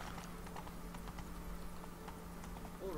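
Roach, the horse in The Witcher III, clip-clops along a long path in a steady rhythm of hoofbeats over a continuous low ambient hum, no talk.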